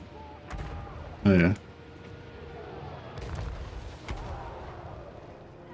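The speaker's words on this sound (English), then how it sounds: "Where's that artillery going?" Artillery fire on a Total War: Warhammer battlefield, a few dull booming impacts spread across the clip with one loud burst of battle noise early on; someone briefly speaks.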